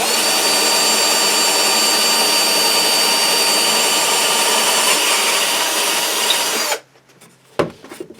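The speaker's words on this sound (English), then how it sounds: "we've just got our extra long drill bit here" A long drill bit grinds loudly through the wooden body of a custom bass guitar in one continuous whir, then cuts off abruptly near the end, followed by a brief knock and quiet handling.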